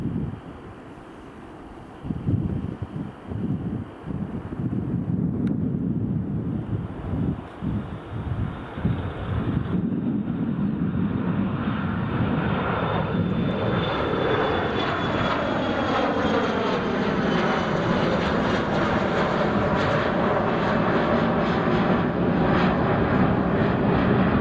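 A Cologne flight airliner on final approach to Edinburgh Airport, first faint in the distance and then swelling into a steady, loud engine roar with wind buffeting the microphone.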